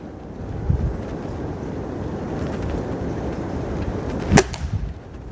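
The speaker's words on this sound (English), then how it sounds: "You know, this wind is really crazy." Strong gusty wind roars and buffets the microphone throughout, with a sharp whooshing blast near the end.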